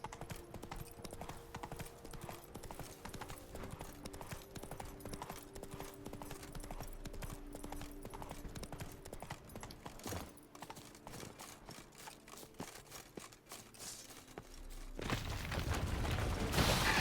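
The horse Roach trots in the video game Witcher 3, its hooves beating an even clip-clop through most of the stretch over a low game backdrop, ending in a louder rush of noise.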